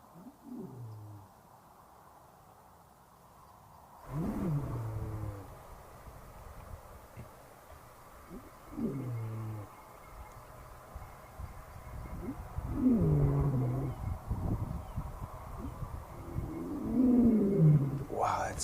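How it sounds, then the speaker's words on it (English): A male lion roars repeatedly in the African bush, a series of deep grunting roars in rhythmic bursts, growing louder over the sequence with faint background wind and no talk. "There, he's roaring, listen."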